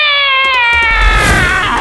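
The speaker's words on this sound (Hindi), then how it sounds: "ये वही मोटी बिल्ली होगी।" A cat gives one drawn-out, whining meow that slides downward and fades into a noisy rush, loud and close.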